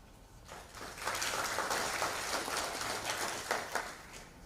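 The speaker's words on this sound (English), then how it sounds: "Do you clap first?" An audience claps at a project closure event, the applause building after a quiet start into a steady, moderate patter of many hands that carries on to the end, with no speech over it.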